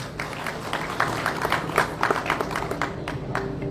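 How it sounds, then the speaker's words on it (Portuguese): Audience at the opening ceremony of the 50th SBCCV cardiovascular surgery congress giving a round of applause in an auditorium, dense overlapping hand claps at moderate loudness that gradually thin out toward the end. "Parabéns, mais uma salva de palmas."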